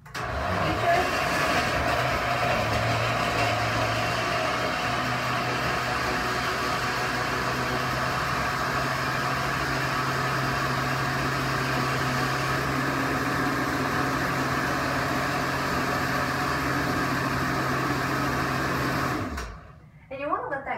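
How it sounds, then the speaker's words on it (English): A kitchen blender whirs steadily and loudly while blending a strawberry banana smoothie, running without a break for about nineteen seconds before it cuts off abruptly. "At this point it would be on. And we are going to use our blending feature."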